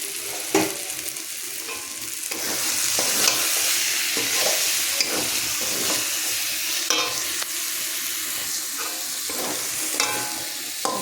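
Lote fish curry (macher jhaal) fries in a pan with a steady close sizzle, while a spoon scrapes and stirs through it in repeated strokes, with no talk.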